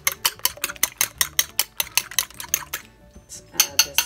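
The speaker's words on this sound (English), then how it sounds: "All right, I'm whisking my 2 eggs." Two large eggs whisked in a bowl, a fast, even run of sharp clinks of the whisk against the bowl, a brief pause, then more quick strokes.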